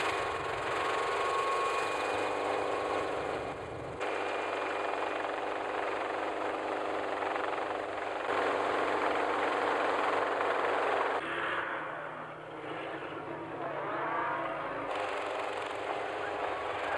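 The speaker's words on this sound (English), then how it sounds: "By mid-morning, the choppers have gone" A helicopter flies low while mustering cattle in the Australian outback, its engine and rotor a loud, steady drone throughout with slight shifts in tone as it moves.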